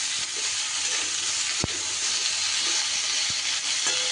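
Drumstick and potato curry fries in a pan with a steady, close sizzle and hiss, broken by a couple of sharp spoon scrapes and knocks as it is stirred.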